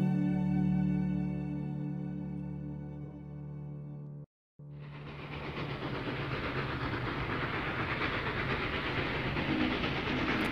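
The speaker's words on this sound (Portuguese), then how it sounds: "o pequeno príncipe avistou um trem iluminado que vinha passando roncando como um trovão" A lit-up train passes with a deep thunderous rumble, first a long low horn-like drone and then, after a brief gap, loud steady clattering roar of wheels on rails.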